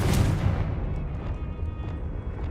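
A Confringo spell from a Harry Potter video game bursts into a heavy, rumbling explosion, its loud low-end boom fading over a couple of seconds, with no voices.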